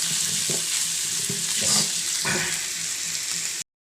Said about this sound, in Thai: เราจะมาคั่วหอมเลยนะครับ